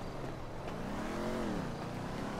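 A motorcycle engine revs, its pitch climbing and falling in one quick throttle blip, fairly faint against steady background noise.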